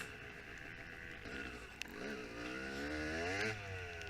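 A motocross dirt bike races at the New Hartford MX open, C class. Its engine is close and loud, and the throttle is opened so the revs climb in rising whines over clattering, bumpy track noise.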